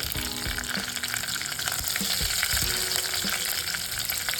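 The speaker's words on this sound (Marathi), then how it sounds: "आता आपण कढीपत्त्याची पानं घालून घेऊया आणि 1 चमचा भरून मी जिरं टाकून घेते" Curry leaves and cumin seeds sizzle steadily in hot oil in a pan for Kolhapuri misal pav, a dense, continuous crackle at close range with a few faint clinks.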